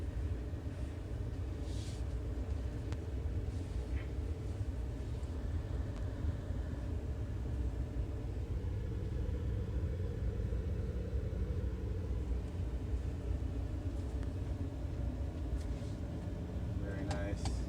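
A Ford F-150 Lightning electric pickup truck drives on a track, giving a steady low rumble and road noise throughout, with faint voices underneath.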